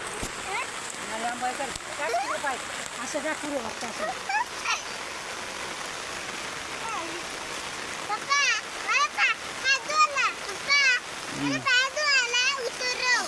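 Steady rain pours over a farm field, a constant broadband wash with splashing, while children and adults talk over it, their voices near and intermittent.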